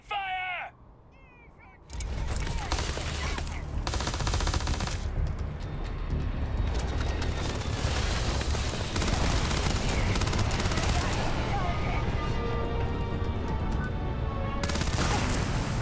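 Sustained heavy gunfire in the space game Starfield, a dense rattling barrage that starts abruptly after a quiet opening and keeps up loud and continuous, with occasional voices mixed in.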